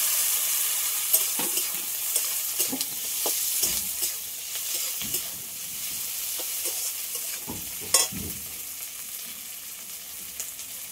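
Chopped tomatoes fry in a pan with bhetki fish in a continuous close sizzle, with scattered stirring clicks and scrapes.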